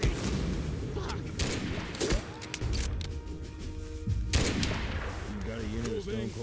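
Machine gun fire in the Mud and Blood video game comes as rapid bursts and single cracks, loud and close, with voices talking between the shots.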